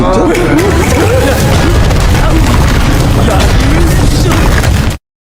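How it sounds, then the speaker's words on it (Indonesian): A loud, dense roar of blasts and crashing debris from an explosion in the Korean film Hi Five fills the whole stretch, with a booming low rumble and voices briefly audible beneath, then cuts off abruptly. "pertarungan mereka menyebabkan ledakan"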